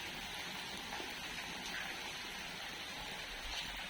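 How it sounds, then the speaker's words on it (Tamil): Steady heavy rain falls continuously during an orange weather alert, a dense even hiss with no voices over it. "மழை பெஞ்சிட்டு இருக்க ஆரஞ்சு அலர்ட் கொடுத்துருக்காங்க"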